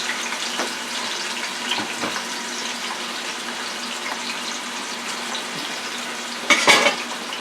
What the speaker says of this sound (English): Now let me add the onions to the oil. Get those sauteed.